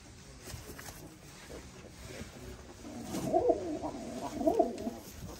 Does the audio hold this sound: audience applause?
no